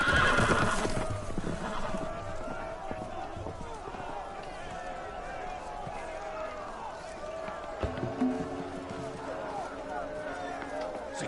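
Loose horses neigh and gallop in a Game of Thrones video game, a whinny rising near the start and then hooves pounding over a busy, noisy scene with background game sound.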